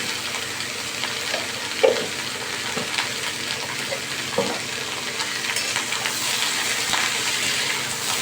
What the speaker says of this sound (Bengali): দিয়ে এবার সবজিগুলোকে আমি ভালো করে ভাজতে থাকবো।